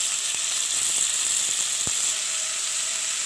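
Chicken frying in a pan for a chicken vegetable soup gives a steady, close sizzling hiss, with a few faint clicks and no talk.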